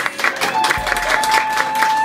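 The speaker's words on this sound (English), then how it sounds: "First of all, Vicki, happy anniversary. Round of applause." Guests at an anniversary party clapping and cheering in a short, lively burst, the applause steady and fairly close, with a few voices mixed in.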